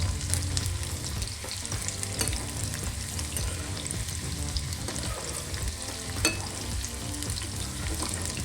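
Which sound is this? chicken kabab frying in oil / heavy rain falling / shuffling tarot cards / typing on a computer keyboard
chicken kabab frying in oil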